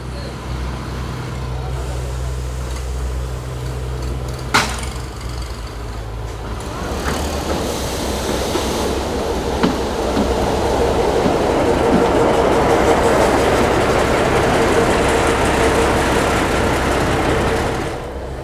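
A 100-year-old narrow-gauge toy train on the Bilimora–Waghai line rolls along with a steady rumble and clatter that grows louder and denser, a sharp knock partway through, and a voice talking faintly at times.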